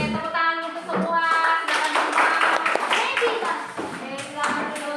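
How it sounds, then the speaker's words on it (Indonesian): A class of children applauding together in a classroom, brisk clapping spread across several seconds with kids' voices chattering over it. "Oke, tepuk tangan untuk semua."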